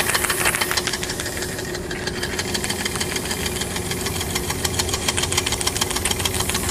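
A small homemade steam engine driven by a beer bottle boiler heated through a Fresnel lens, fed by plastic hose and leaking, chuffs and knocks in a rapid, even rhythm under a constant hiss, close and loud throughout.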